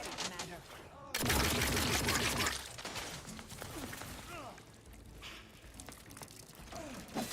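Gunfire in the video game The Outer Worlds, a dense burst of rapid shots from about one to two and a half seconds, then scattered mechanical clicks and softer game effects with a voice speaking intermittently.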